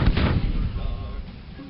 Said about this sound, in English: Sheaf's brigade artillery, the Galveston Light Battery, commence lobbing shells at the 20th Maine as they cross the open ground in front of the Sunken Road.